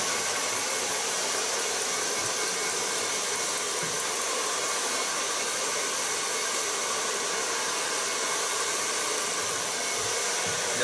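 Hair dryer blowing steadily through a long stretch during a pixie haircut in a salon, a continuous airy roar with no pauses and no talking over it.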